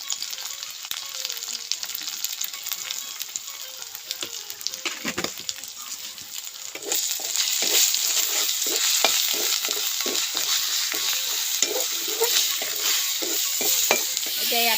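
Wild taro fries in oil with ginger, garlic and turmeric, giving a steady close sizzle that swells louder midway, punctuated by repeated scraping stirs of the spatula.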